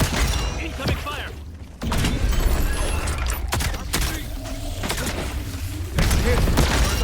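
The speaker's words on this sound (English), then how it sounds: "Incoming fire!" Incoming gunfire and explosions in Black Ops 7, a dense, loud barrage of shots and booms with a short lull, while someone shouts over it.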